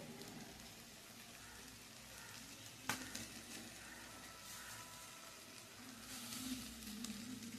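Spice paste fries in a pan while being stirred, a quiet continuous sizzle with scraping movements and one sharp knock of the utensil against the pan, and nobody speaking.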